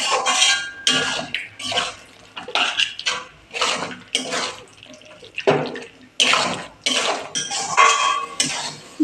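A spoon scrapes and clatters in a pan while lentil paste and bottle gourd greens are stirred with water, repeated close bursts of metallic clinks and wet scraping in an uneven rhythm.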